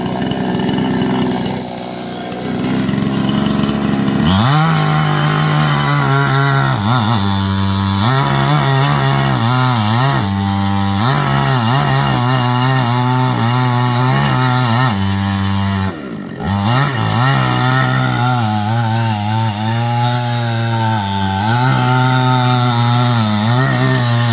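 A chainsaw cuts into a large wooden Holi pole in Devgad. The loud, close engine idles, then revs repeatedly in long rising and falling bursts, with a brief dip midway.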